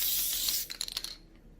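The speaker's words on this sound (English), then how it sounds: "I prefer the adhesive spray, and you don't even have to spray a lot." A short hissing burst of adhesive aerosol spray onto a garment, then a few quick sputtering spritzes before it cuts off.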